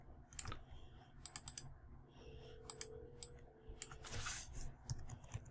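Quiet tapping on a computer keyboard in short bursts of keystrokes, with a faint background hum and no speech.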